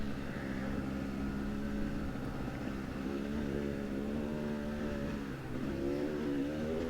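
A motorcycle engine drones steadily while riding, its harmonic hum holding close and loud and shifting slightly in pitch as the throttle changes, with a brief dip near the end before it picks back up; no voices are heard.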